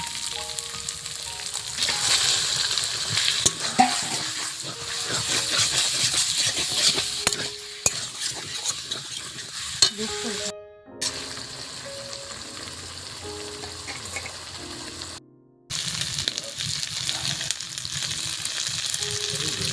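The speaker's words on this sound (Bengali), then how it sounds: "মশলাটা ভাজা হয়ে গেছে এবার চিকেনটা দিয়ে দেব" Chicken fries in spices that have already been browned, a loud, steady close-up sizzle with repeated spatula scrapes and stirring throughout, briefly cutting out twice.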